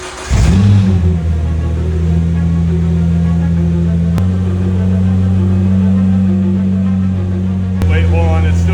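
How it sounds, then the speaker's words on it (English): A Nissan GTR engine cranks and catches with a sharp rising rev, then settles into a steady, loud, low idle rumble close by, with a couple of brief clicks along the way and speech-like sounds mixed in. "it's time to start this car and see if that annoying rattling sound is actually gone"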